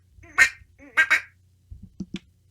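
A duck quack sound effect plays in loud, close, nasal bursts, a few quacks in quick succession. Softer, lower quacks trail off at the end.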